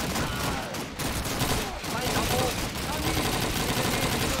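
Sustained rapid gunfire fills a Call of Duty 2 battle, a dense barrage of overlapping shots and bursts heard steadily throughout at moderate volume.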